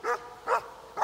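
Dogs of a mountain refuge on Corsica's GR20 trail bark three times in a steady rhythm, fairly close and clear over a quiet cattle pasture.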